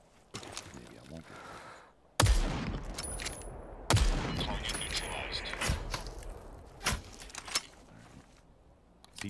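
Gunfire in the Super People battle royale video game, several loud sharp shots and scattered fainter bursts over ambient game noise while a player talks.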